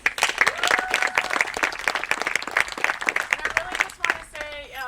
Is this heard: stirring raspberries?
no